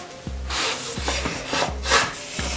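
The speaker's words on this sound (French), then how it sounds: "faut que je ponce un peu mieux parce que c'est juste découpé brut" Rhythmic back-and-forth rasping of sandpaper on rough-cut wood, about five strokes, close and steady, each with a dull low thud at the turn.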